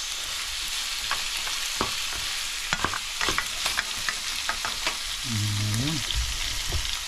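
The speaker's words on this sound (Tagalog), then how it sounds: "Isa-gisa lang natin hanggang medyo mag light brown." Pork pieces sautéing in a hot pan until lightly browned for pork binagoongan, a steady sizzle with repeated scraping and clanking stir strokes close up, no talk.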